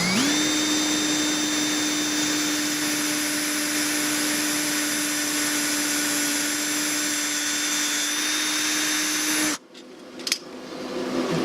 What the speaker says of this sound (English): A punch is a good idea when you drill metal